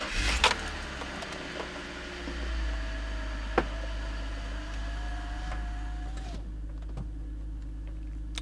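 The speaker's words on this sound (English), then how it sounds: "go ahead and start the car" A cold car engine cranks and catches, then settles into a steady low idle that rises briefly before dropping, with faint clicks and rattles.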